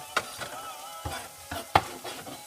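Garlic and onions sautéing in a pan for vegan black bean and mushroom burgers, a light sizzle under several quick spatula strokes and scrapes at uneven intervals, close by, with no speech.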